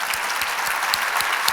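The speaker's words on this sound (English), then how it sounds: "So one more round of applause for my" Audience at the HD Summit 2022 gives a round of applause for fellow speakers and artists, a dense, steady wash of clapping from a crowd lasting throughout with no voices over it.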